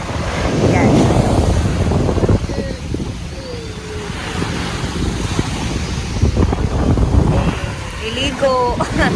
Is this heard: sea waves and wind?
yes